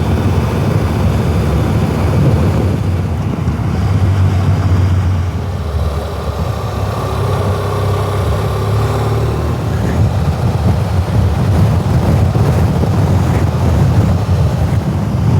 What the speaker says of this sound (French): Putain, le vent, wow.